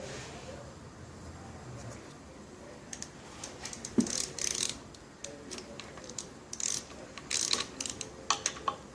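Wrench ratcheting to turn over a Ford 302 small-block V8 engine on a stand, a faint series of uneven mechanical clicks and clanks over quiet background noise.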